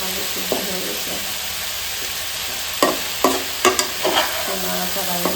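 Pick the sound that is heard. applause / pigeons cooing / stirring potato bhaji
stirring potato bhaji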